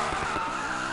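A car drifts in a racing video game with a loud, continuous tire skid and screech over the engine, heard close and alone.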